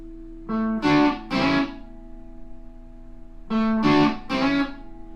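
Two short bursts of blues guitar double stops, each a quick run of paired notes with a hammer-on, separated by a pause and played alone.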